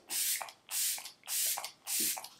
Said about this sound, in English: And then I am going to spray my face.